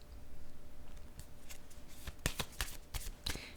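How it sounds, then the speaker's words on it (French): A tarot card laid down on a table gives a handful of quick, soft papery slaps and swishes, close and quiet, with no talking. "Je vais déposer une autre carte."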